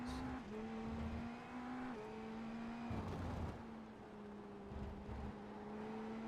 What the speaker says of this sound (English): Just listen to these cars.